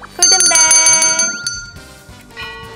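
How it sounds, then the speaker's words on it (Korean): Bright ringing golden bell chimes and a rising tonal sweep, a game-show jingle on a stock-picking show, with a voice briefly speaking underneath. "이번 주 세 종목 모두 골든벨이 울렸습니다."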